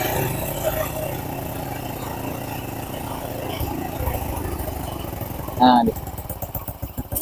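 Honda Blade motorcycle engine idling unevenly during carburetor adjustment, a close low putter that sounds close to stalling, with someone talking over it and a brief metallic clatter near the end.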